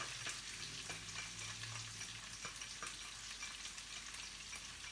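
Jalapenos, onion and garlic sizzle steadily in a pan with cooked franks, a continuous close frying hiss with occasional soft stirring scrapes and no voices.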